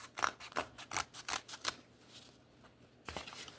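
Scissors or a blade cut through a stack of book pages in a quick series of crisp snipping and rustling strokes, about eight close cuts, then a pause before one more.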